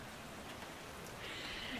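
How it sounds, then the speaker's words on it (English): Steady rain falls over a soft wash of hiss that continues throughout. The sound is faint and distant, and no one speaks. "Rained the day I married Hank. Just like today"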